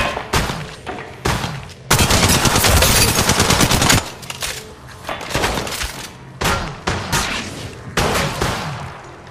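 Rapid automatic gunfire in Apex Legends Mobile, loud and close, with a long sustained burst and several shorter volleys and single shots around it.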